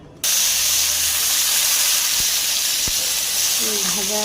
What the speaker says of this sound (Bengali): ভাজতেছি পেঁয়াজ লঙ্কা এগুলো ভাজবো ভালো করে।